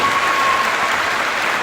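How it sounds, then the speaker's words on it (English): Audience applause fills a panel event on the youth climate crisis at Pine Ridge, a dense, steady wash of many hands clapping at even loudness throughout, with no voices rising above it. "Let's give him a round of applause."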